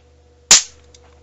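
A charged capacitor shorted across a copper bar gives one sharp, loud bang, a brief crack that fades quickly over a quiet hum, with a faint click just after.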